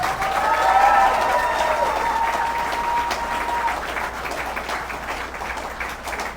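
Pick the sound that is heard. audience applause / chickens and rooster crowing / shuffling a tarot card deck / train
audience applause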